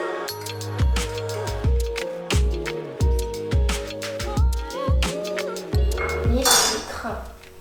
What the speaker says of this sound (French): on va mélanger dans un saladier le beurre fondu